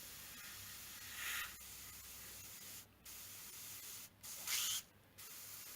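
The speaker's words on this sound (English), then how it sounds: "So here we go, test spray first." An airbrush hisses out test sprays of Tamiya X8 lemon yellow paint for a Ju 86 model build, steady close spraying broken by brief pauses and a louder burst.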